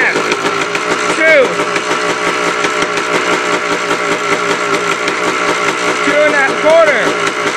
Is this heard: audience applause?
no